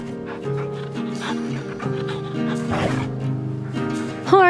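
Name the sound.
sled dog barking and whimpering in video game The Red Lantern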